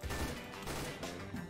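Gunfire in the game CS:GO, a dense burst of overlapping shots with no pauses, moderately loud and heard without speech.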